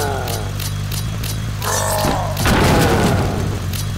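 Vehicle in the zombie driving game Earn To Die crashes hard, a loud heavy boom and crunching impact midway over steady engine drone and game music, with a clattering smash following; someone talks over the game.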